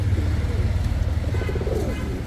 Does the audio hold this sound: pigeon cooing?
yes